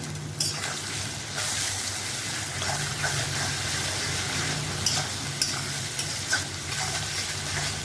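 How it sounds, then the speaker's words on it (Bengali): Salted onion is stirred and fried in a pan as the start of a spicy fish jhuro, giving a steady close sizzle with repeated scraping stirs throughout. "এখন এটাকে ভাজাভাজি করব।"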